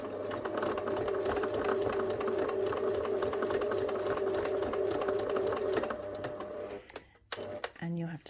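A sewing machine drives through four layers of fabric plus four layers of interfacing on a bunny pattern, a steady close mechanical hum for about six seconds, then it stops amid handling sounds and a brief voice.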